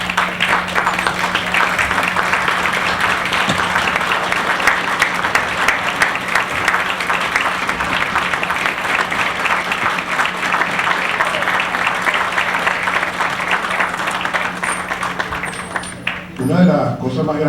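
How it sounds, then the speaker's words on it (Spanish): A standing audience at a conference on the Corbeta Caldas crisis gives sustained applause for the participants, dense steady clapping lasting over fifteen seconds before fading out. "Por favor, levántense para darles un aplauso a todos los que participaron."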